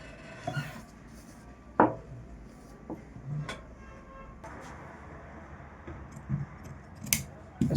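Scissors snip through a fabric strip at a tailoring table in a few separate sharp cuts, spaced irregularly, close by amid a quiet room tone.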